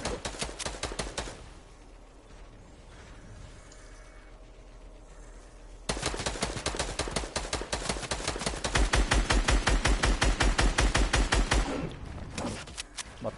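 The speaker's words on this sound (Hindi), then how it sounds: "ये भाई गोलियां चला रहे हैं आप" Rapid automatic gunfire in a video game rattles in dense bursts, pausing briefly before a louder, sustained volley, with faint talk beneath.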